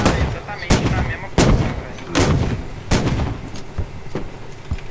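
Artillery fire in the military video game Squad on the Al Basrah map: five sharp, loud booming shots spaced roughly every second, each with a short rumbling tail, with faint background noise between.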